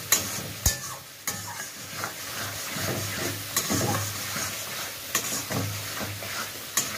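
Mustard greens (sarson saag), boiled, ground and fried in oil with onion, ginger and garlic, are stirred in a pan, giving steady sizzling and frying hiss broken by sharp spoon scrapes and knocks against the metal.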